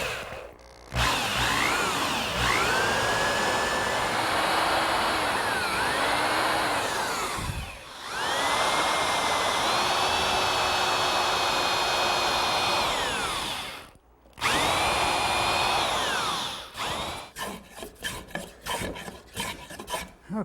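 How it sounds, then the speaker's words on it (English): A drill bores a hole through a wooden Windsor chair crest rail, giving a steady, loud grinding rasp that runs in long spells broken by brief pauses, then ends in quick choppy bursts. "and drill a hole."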